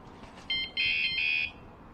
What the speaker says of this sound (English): One alarm set off the other.